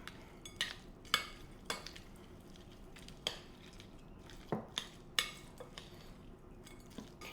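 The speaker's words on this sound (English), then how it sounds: "We're going to start with about a half a cup and mix that in." A spoon scrapes and clinks against a bowl as mayonnaise is stirred into strawberry pecan chicken salad, with irregular close clatters and soft mixing sounds and no talking.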